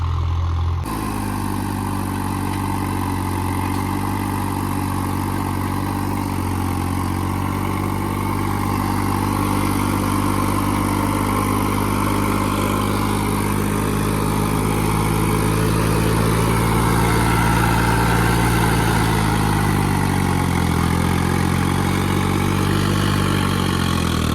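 A tractor engine runs steadily while the machine turns in a farm field, a loud, close, continuous low rumble with a slight shift in pitch partway through and no voices.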